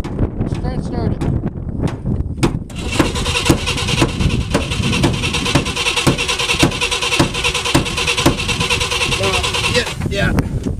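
1958 Ford car engine cranks with a string of rapid starter pulses, then catches and runs as a loud, rough mid-pitched roar that cuts off near the end, close and prominent.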